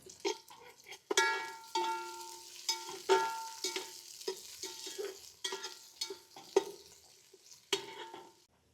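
Onions frying in oil in a pan for mutton keema nonbu kanji, a soft sizzle with intermittent clinks and scrapes of a utensil stirring, close and moderately quiet.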